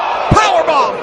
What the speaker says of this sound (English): Powerbomb into the apron.